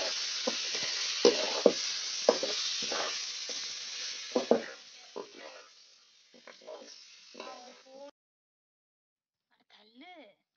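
Chicken dropped into a hot pan in an outdoor village kitchen, hissing and crackling loudly and steadily for several seconds before cutting off, followed by brief voices.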